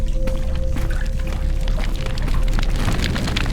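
In a horror video game, water splashes and gushes steadily into a pot, a continuous pouring sound with a low hum underneath, all through.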